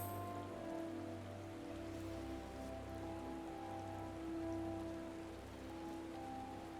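Steady rain patters in a video game scene, a soft even hiss over low humming tones and background music, fairly quiet and unbroken with no talking.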